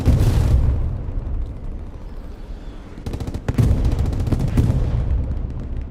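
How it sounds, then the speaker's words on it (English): Loud artillery fire and explosions in the WWII shooter Hell Let Loose during a competitive match: rumbling blasts fill the opening, then dense rapid bursts and sharp shots crackle from about three seconds on, with no talk. "This artillery's just breaking my ears apart"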